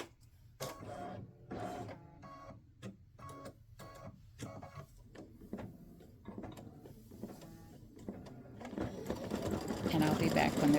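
Home embroidery machine stitching a Halloween cowboy ghost patch, a rapid mechanical chatter in bursts and pauses that grows louder and denser toward the end, heard close with no talk.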